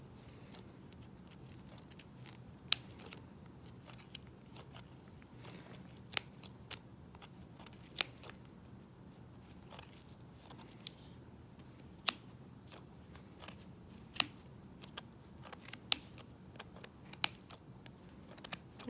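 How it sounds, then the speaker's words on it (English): Scissors snip through yarn pom pom loops in scattered sharp clicks, a dozen or so close cuts at irregular intervals over a quiet background. "Try the bigger scissors."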